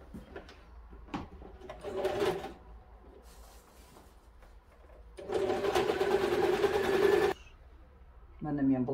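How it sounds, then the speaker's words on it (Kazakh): A sewing machine stitching fabric and elastic for a garment, running in a short burst and then a longer steady whirring run of about two seconds, with quiet handling sounds between and a voice speaking at the end. "Енді мына жерге айландырып кіргізіп тігемін."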